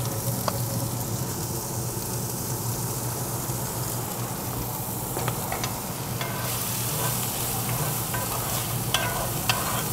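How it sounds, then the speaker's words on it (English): Shallots and peppers with Italian seasoning fry in a cast iron skillet, giving a close, continuous crackling sizzle with occasional sharp pops and stirring scrapes, and no voices. "first things going in are the shallots, peppers, Cattleman's Grill Italiano seasoning"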